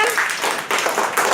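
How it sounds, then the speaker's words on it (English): Schoolchildren in a classroom clap together for two classmates, a dense, steady patter of many hands with brief dips, fairly close and loud. "All of you start clapping for both of them."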